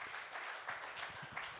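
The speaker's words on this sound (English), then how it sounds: "Round of applause" Event audience applauds to open a community gathering, a faint, continuous wash of clapping from a crowd heard at a distance without talk.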